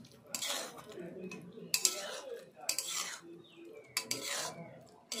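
A spoon stirs ghee through pumpkin and Gobindobhog rice in a pan, giving several close, intermittent scrapes and clinks of metal against the pan in an uneven rhythm, with no talking.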